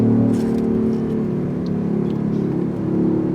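A BMW electric car accelerating hard, heard from inside as a steady loud motor whine and road rumble that holds and swells slightly, with no talking.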